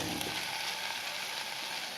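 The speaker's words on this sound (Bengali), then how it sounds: "যে ভালো করে ভাজা হয়ে গেছে পোড়া ধোঁয়া হচ্ছে" Rice and other ingredients frying hard in a hot pan for restaurant-style fried rice, a continuous close sizzle with dense crackling hiss, steady in loudness and with no voices over it.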